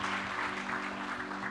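Church congregation clapping during a worship service, a dense, steady burst of applause filling the room for a moment, with no talk over it.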